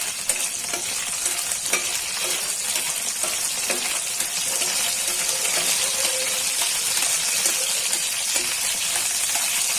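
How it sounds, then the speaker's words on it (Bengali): Green chilies and garlic cloves sizzle in hot oil, a close, dense crackle with small pops and occasional stirring clinks throughout. "তেলে ভেজে নিচ্ছি"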